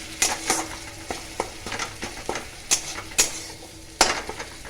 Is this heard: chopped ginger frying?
yes